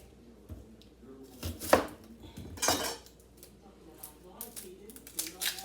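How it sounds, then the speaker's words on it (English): A knife cuts an onion into quarters on a board in a home kitchen, giving a handful of crisp chopping knocks with light clattering at moderate, close level. "I'm just going to cut it in half"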